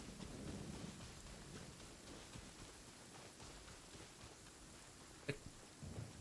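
Steady soft rain in the Genshin Impact game world, a quiet even hiss of falling drops with a couple of brief louder knocks near the end and no talking.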